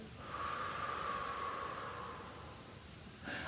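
A long, steady breath out during a Pilates exercise, a soft airy hiss held for a few seconds and close to the microphone, followed by the start of another breath.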